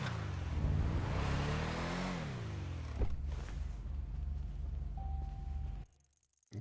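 A car engine in the Rockstar Editor video game revs steadily, its pitch sweeping up and down before a sharp jolt, then holds a continuous hum under a thin tone before cutting out abruptly.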